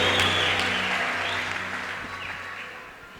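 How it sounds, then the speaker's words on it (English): Hand clapping at a church gathering, loud at first and fading steadily over a few seconds, with a faint tonal hum underneath. "Clap your hands for Jesus."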